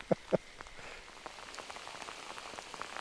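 Rain falls on a fishing outing, a light patter of scattered drops with a couple of sharper close taps at the start.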